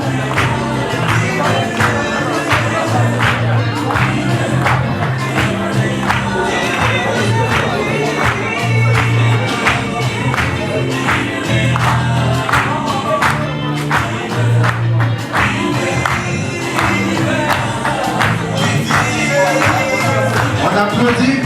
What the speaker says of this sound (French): On applaudit pour les dames et les messieurs d'honneur qui ressortent de la piste.